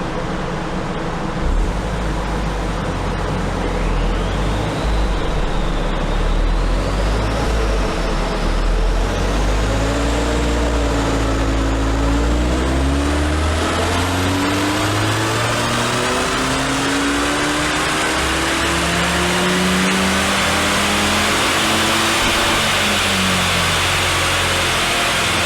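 A DS5 THP 200 Sport car's engine revs hard on a rolling-road dyno, its pitch climbing in long, steady sweeps through the gears as the run builds. The sound is loud and close, with a rising whine and no talking.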